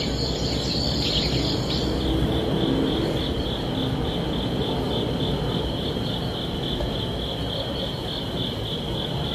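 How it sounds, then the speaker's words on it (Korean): Crickets chirping outdoors in early autumn, a steady high continuous trill held throughout at moderate level over a soft ambient bed, with a brief bird call near the start. "그리고 이제 가을이 왔다는 생각에 귀뚜라미 소리까지"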